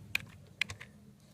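A title being typed on a computer keyboard during an HTML tutorial: a handful of crisp key clicks, two sharper taps with lighter ones between, close and distinct over a faint low background hum.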